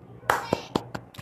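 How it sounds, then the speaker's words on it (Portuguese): Five sharp hand claps at an uneven, quick pace, close and distinct, with a voice briefly present. "Palmas pro Adopt Me."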